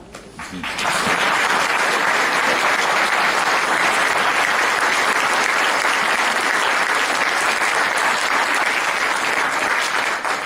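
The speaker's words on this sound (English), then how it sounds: "give a round of applause to the next generation of Rotary" Sustained, loud applause fills the room as an audience claps for high school Interact Club students, the next generation of Rotary, continuing steadily for about ten seconds without speech.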